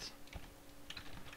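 Keys tapped on a computer keyboard while entering server commands for a Minecraft boss plugin, a few quiet scattered clicks over a steady low background hum.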